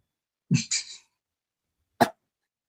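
Two short, harsh coughs close by: a double bark at first, then a single sharp cough after a pause, in otherwise silent surroundings.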